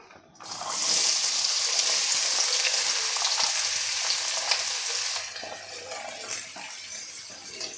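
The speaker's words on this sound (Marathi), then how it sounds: "आता त्याच कढाईमध्ये आपल्याला दोन चमचे तेल घालून घ्यायचं आहे आता यामध्ये घालायचं आहे आपल्याला कांदा" Onion hitting hot oil in a kadhai with two spoons of oil, bursting into a loud, steady sizzle that softens after a few seconds, with occasional stirring scrapes and no talking.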